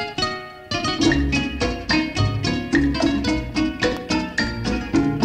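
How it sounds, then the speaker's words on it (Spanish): An excerpt of a song plays as a steady, full recording with rhythmic bass, strummed accompaniment and melody, without talk over it. "vamos a escuchar otro trocito de una canción"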